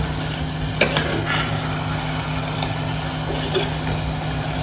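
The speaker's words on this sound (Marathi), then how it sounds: "जास्त परतायचे नाही तांदूळ नाही तर मोडले जातात" Rice for a val (field bean) khichdi being stirred and sautéed in a pan, a steady close sizzle with scraping stir strokes and an occasional sharper clink, no talking.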